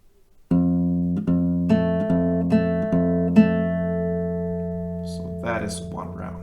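An acoustic guitar plays a slow fingerpicking pattern, evenly spaced plucked notes over a sustained ringing bass, close and clean, with a voice briefly starting to speak as the notes fade.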